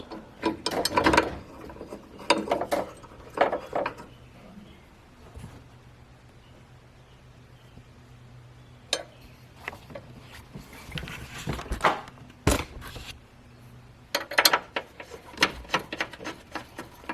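A hand ratchet tightens the battery bracket bolts on a GMC Sierra / Chevy Silverado, giving bursts of rapid clicking close by with short pauses between strokes.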